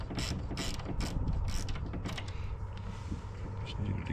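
A wrench ratchets as it tightens a bolt on a hasp being fitted to a shed door, a series of quick clicks in short bursts, close by, over low background noise.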